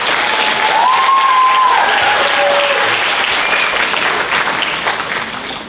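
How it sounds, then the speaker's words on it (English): Audience applause fills a dance recital hall for children who have just performed, a steady dense clapping that holds loud and close throughout before easing slightly at the end. "Please give a round of applause for our kids."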